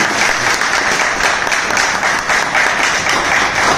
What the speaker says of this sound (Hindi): एक बार सभी जोरदार तालियां करें